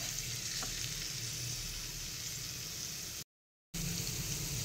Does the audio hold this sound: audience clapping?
no